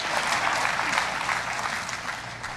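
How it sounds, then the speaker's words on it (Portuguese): A sermon audience bursts into loud, sustained applause, a dense wash of clapping hands from a large crowd that begins to ease off toward the end. "Aplauda a Deus pela revelação."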